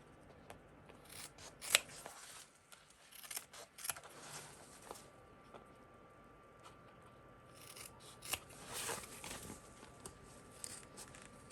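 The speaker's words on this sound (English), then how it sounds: "we are going to trim our corners on the lining piece as well as the main piece" Scissors trim the corners of a fabric lining piece and main piece for a sewing pattern, making faint scattered snips and soft rustling of cloth at close range, with a few sharper cuts standing out.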